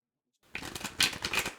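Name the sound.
tarot cards being picked from a deck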